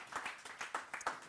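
Audience clapping at a fireside chat event, a short burst of scattered claps in quick uneven rhythm, moderately near and fairly quiet, with no talking over it.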